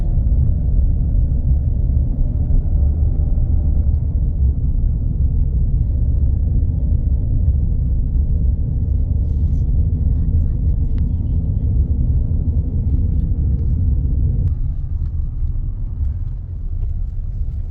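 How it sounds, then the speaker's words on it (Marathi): Safari vehicles drive along a narrow forest road, heard as a steady, loud low engine rumble that continues for the whole stretch and changes slightly near the end. "सफारीच्या गाड्या येत आहेत."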